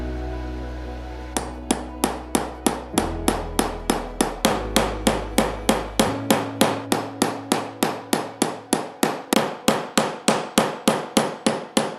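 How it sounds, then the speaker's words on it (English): A metal part for a Pocket Master fountain pen is hand hammered, with a steady fast series of about forty sharp ringing strikes over a low hum that fades partway through. "How long does it take you to do this hand hammering process on a Pocket Master?"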